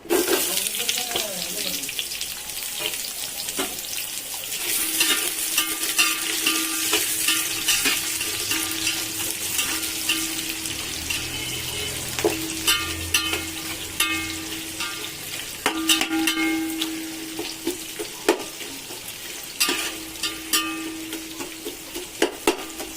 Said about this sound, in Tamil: இந்த அளவுக்கு வெங்காயம் வதங்கினா போதும்